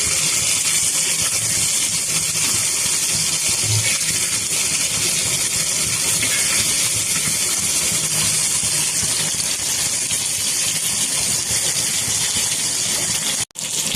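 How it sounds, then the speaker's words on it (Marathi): Bangda (mackerel) fish fries in a pan with a steady, loud, unbroken sizzling hiss, ending in one brief sharp knock just before the end. "मच्छी फ्राय होते"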